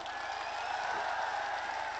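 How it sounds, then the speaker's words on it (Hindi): Audience at a Karni Sena gathering clapping to welcome a guest, a steady wash of applause and crowd noise with faint voices mixed in. "ताली बजाकर स्वागत करें राज का।"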